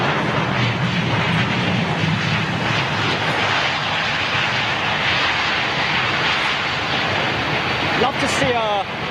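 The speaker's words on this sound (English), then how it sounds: "touchdown for the first arrival of the day at London Heathrow" An airliner landing at London Heathrow on the first arrival of the day, its engines a loud, steady, broadband roar that fills the scene from start to end, with a brief rising whine near the end.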